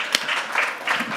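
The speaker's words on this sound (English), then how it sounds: "big applause" Audience applause after a startup pitch at a social inclusion startup challenge, a short burst of crowd clapping at moderate level with no talk over it.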